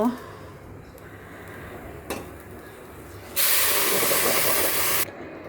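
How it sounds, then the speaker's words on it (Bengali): Hot water pours into a hot pot of sautéed rice for biryani with a sudden loud hissing rush lasting under two seconds, after a quieter stretch with a couple of faint clinks. "এবার গরম পানি দিয়ে দিব।"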